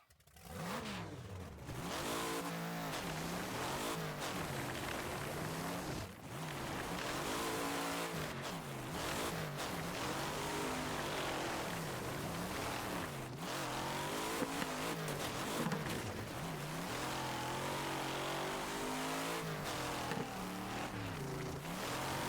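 Car engine in the racing game Wreckfest, driven on a converted rFactor track, revving up and down continuously through gear changes as engine pitch rises and falls, loud and steady throughout with no talk.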